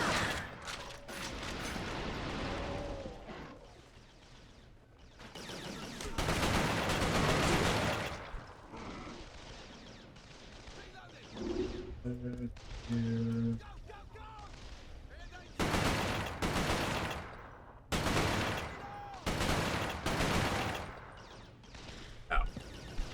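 Rapid bursts of carbine gunfire in the Resistance: Fall of Man video game, loud repeated volleys separated by brief pauses, mixed with mechanical clatter and other game effects.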